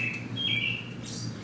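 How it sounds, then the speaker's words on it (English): Small songbirds singing outdoors, a few bright chirps and short whistled phrases at moderate distance over a low steady background hum, no talking. "beautiful songbirds out there. It's a beautiful sound."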